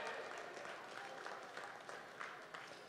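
Comedy show audience clapping in a steady, fairly faint wash, with a few louder claps poking through near the end.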